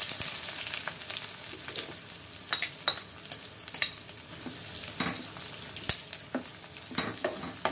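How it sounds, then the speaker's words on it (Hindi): Two medium onions, sliced, fry in hot oil over a high flame for Hyderabadi gurda masala. A steady, close sizzle runs throughout, broken by sharp clacks and scrapes of stirring, with no voices. "ये दो मीडियम साइज के अनियन को मैं स्लाइस में कट कर ली हूँ। अभी हम इसको ये इसमें फ्राई करेंगे"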